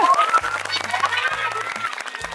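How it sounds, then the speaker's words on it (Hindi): An audience at a hammer pot-breaking challenge event bursts into loud, dense applause. The clapping continues steadily, with a voice talking over it. "जोरदार ताली मारिए"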